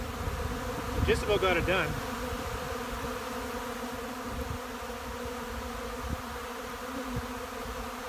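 Honey bees swarm an open dry feeder, their steady, fairly quiet buzzing humming on throughout while someone speaks briefly near the start.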